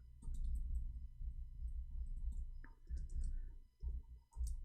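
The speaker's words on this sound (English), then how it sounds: "I cannot read your text when I am typing." Rapid keystrokes on a computer keyboard, a steady run of close, soft clicks with brief pauses between bursts, heard alone at low level.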